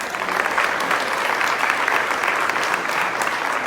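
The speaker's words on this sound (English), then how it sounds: "Give John a round of applause." A union gathering audience claps steadily, dense and sustained applause filling the room at moderate loudness with no speech over it.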